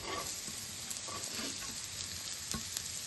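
Carrots and beans sizzle in a pan with fried onions for egg fried rice, a steady, fairly quiet crackling hiss with occasional stirring scrapes.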